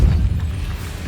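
A spell cast in the Hogwarts Legacy video game lands as a deep, rumbling magical boom that rolls on steadily for about a second, loud and heavy in the low end.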